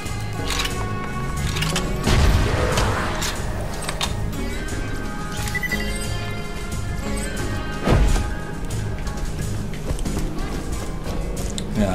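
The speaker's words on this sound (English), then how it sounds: "I do like those firework grenades." Firework grenades burst in Borderlands 2: a chaotic run of crashing game explosions and crackling pops over a dense, busy soundtrack, with heavier blasts standing out around a couple of moments.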